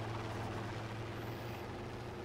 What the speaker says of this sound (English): I can take this plane out.